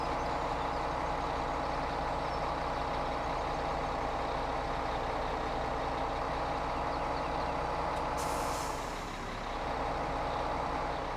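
A logging truck in Farming Simulator 17 drones steadily as it climbs a hill, with a continuous engine rumble and a brief hiss near the end, moderately loud and without talk.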